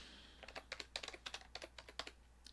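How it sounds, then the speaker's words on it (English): Quiet, rapid clatter of keys on a computer keyboard, irregular bursts of light taps close by with no voices. "we'll just keep typing for a little bit"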